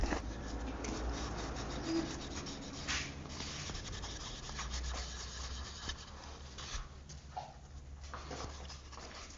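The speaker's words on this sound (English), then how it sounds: "So now I'm just going to finish it off with a paste wax." Paste wax is rubbed onto a small heart-shaped wooden box, a soft continuous scuffing and rubbing that stays quiet and close throughout, with no one talking.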